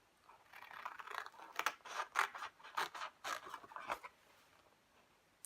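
Scissors snip through paper in a run of short, crisp cuts, each a brief rasping burst, close by with quiet pauses between.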